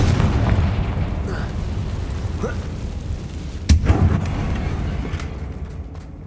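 A Confringo spell bursts in the Hogwarts video game, one sharp blast near the middle over a steady rumble of game sound and ambience.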